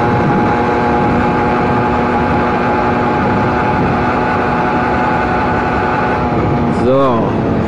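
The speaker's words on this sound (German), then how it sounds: "Mal Vollgas mal hoch." A moped engine revved at full throttle, a steady loud drone with a constant tone that holds throughout, easing off briefly near the end.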